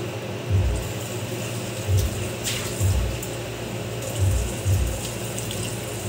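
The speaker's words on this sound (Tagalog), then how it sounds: "So mag-add po tayo ng kunting tubig lang." Water poured in a small amount into a pot of tuna jaw stewing with seasoning, a soft running trickle with low bubbling pulses, quiet and steady with no talk.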